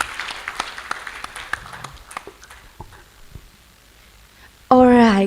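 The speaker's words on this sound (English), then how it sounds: "give the applause for our speaker and our participants" A conference audience applauds in a burst of scattered claps that thins out and fades, followed by a loud, sustained tone near the end.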